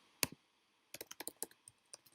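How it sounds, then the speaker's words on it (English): Close keyboard typing on a computer, one sharp keystroke followed by a burst of quick uneven clicks and a few trailing taps, with no voice. "I don't know why I'm typing in capitals"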